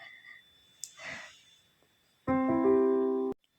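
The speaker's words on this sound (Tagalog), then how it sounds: "So, ito yung tunog ng organ." An electronic organ keyboard sounds one sustained chord for about a second, loud and close, after a stretch of quiet breathing and handling noise.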